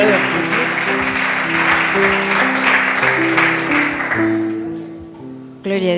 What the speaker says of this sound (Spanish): Da un aplauso a que vive